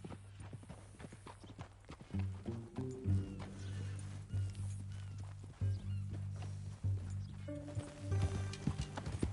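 A horse's hooves clip-clop at a walking pace, a quiet, steady run of hoof strikes with faint tonal background sounds and no clear speech.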